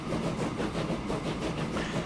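A train rolls steadily along the track in the Transport Fever railway game, a continuous rumbling run with faint rhythmic clatter, heard alone with no talk.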